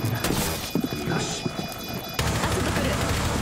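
An explosion goes off during a Rainbow Six Siege match: a sudden loud boom breaks through the gunfire and game noise, then a dense rumble continues.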